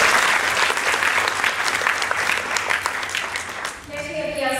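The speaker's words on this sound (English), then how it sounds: "Round of applause for Betsy." Sustained applause from a large audience at a San Diego Comic-Con 2011 convention panel, a dense wash of clapping that fades slightly before a voice resumes at the end.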